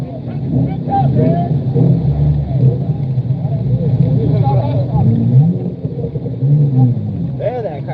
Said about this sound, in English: There, that car sounds good.